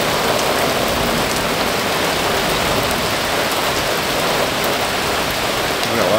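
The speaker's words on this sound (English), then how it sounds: "We got a lot of rain in a short period of time. Still coming down." Heavy rain pours steadily during a severe thunderstorm, a loud, dense, unbroken hiss of downpour filling the whole stretch with no voices.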